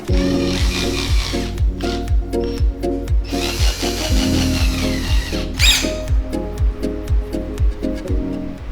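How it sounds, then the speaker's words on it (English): A power drill drives screws through wood pieces up into ceiling drywall during a recessed light install, giving repeated close, loud bursts of motor whine broken by short pauses and clicks. "Drill on the other side like this."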